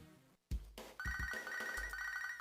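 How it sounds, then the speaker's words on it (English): A ringtone chimes in Pokémon SoulSilver as a phone call comes in, a steady electronic ringing tone that follows a brief game sound effect and a few soft thuds, clear and sustained with no talking. "we get a phone call from Bob"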